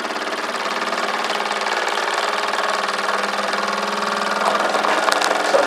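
A model steam engine runs steadily with a fast, even mechanical chatter like a small idling motor, close and continuous, growing slightly louder near the end.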